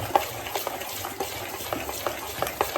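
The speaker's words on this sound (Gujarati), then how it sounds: "બસ તો આ મિક્સ કરીએ" Nylon khaman batter being mixed and stirred in a bowl, giving soft, irregular wet scraping and sloshing strokes close by with light clinks, no voices.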